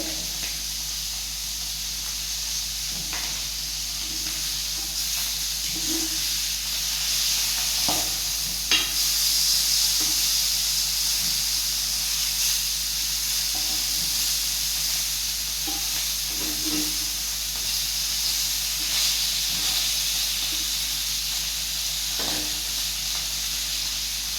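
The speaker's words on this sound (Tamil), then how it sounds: "அதுக்கு தான் கொஞ்ச நேரம் ஊற வைக்காமே பொரிக்கிறேன் மீனை" Unmarinated fish sizzles steadily in hot oil, a constant crackling hiss with occasional pops and soft utensil clinks, no talking.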